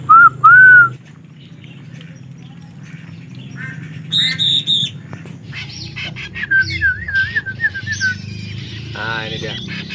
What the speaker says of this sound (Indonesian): Terdengar suara burung ciblek batik, ya.